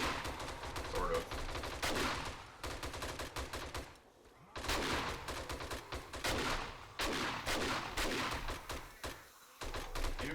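Shotgun fire during a horde-night battle in the video game 7 Days to Die: repeated loud, sharp blasts come in rapid bursts with brief pauses, forming a dense barrage of gunfire.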